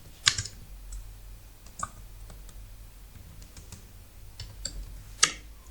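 Light clicking keystrokes on a computer keyboard as a sheet name is typed, irregular taps with a few sharper presses, quiet and close with no voices.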